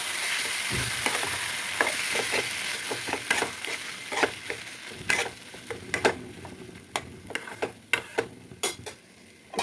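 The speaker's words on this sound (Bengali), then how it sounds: "দিয়ে খুব ভালো করে আমি মশলাটা ফ্রাই করব" Shrimp fry in spice masala in a pan, a constant sizzle punctuated by frequent sharp scrapes and taps of a spatula stirring, close and clear, with no talking.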